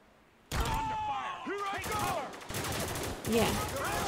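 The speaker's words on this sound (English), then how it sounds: "I'm going to shoot at the soldiers but let them kill me to see if that does anything." Gunfire in Spec Ops The Line, bursts of automatic rifle shots mixed with game voices shouting over the rattle.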